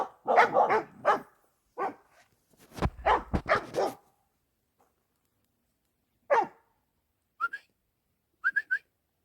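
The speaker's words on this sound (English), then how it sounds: "dogs barking in a direction that I'm not used to hearing dogs bark" Dogs barking outdoors, a burst of loud close barks at first, then sparse, fainter yips and barks with long quiet gaps between them.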